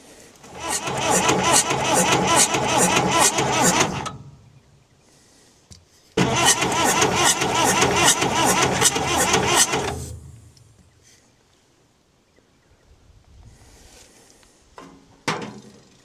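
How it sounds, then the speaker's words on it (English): An engine cranks over on its starter motor while a fuel lift pump is worked by hand. It comes in two long, loud, close bursts of steady rhythmic turning-over, separated by a pause, then fades to quieter handling sounds. "I still felt it should have been turning over a bit quicker"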